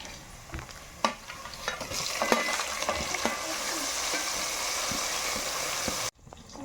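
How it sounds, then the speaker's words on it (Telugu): Tomato pieces go into hot oil in a pan for a korameenu fish curry and fry with a steady, bright sizzle. A few sharp stirring knocks sound over it, and the frying cuts off suddenly near the end. "బాగా నూనె ఉడికాయి టమాటా ముక్కలు వేస్తున్నా"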